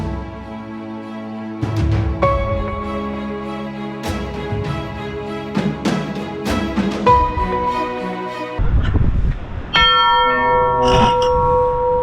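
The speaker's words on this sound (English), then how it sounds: "You climb up the stairs and you DIY your own church bells." Hand-rung church bells at the Fortaleza de Sagres clang loud and close in uneven strikes, their ringing tones overlapping and decaying between hits.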